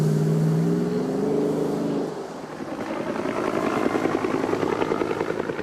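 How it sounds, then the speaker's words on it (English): A Hummer's throaty V8 engine revs hard, starting with a steady deep drone that shifts at about two seconds into a louder, rough, pulsing roar that holds to the end. "You could call the throaty revving of the V8 sexy."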